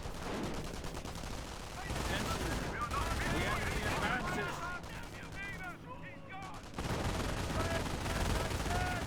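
Bursts of machine gun fire mixed with explosions and other gunshots fill a battle in the World War II strategy game Company of Heroes, dense and continuous throughout, with a brief lull near the middle.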